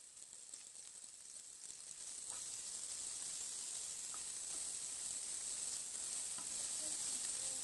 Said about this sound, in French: J'utilise la même poêle pour faire revenir les poivrons verts et rouges 1 à 2 minutes en ajoutant le sel et du poivre.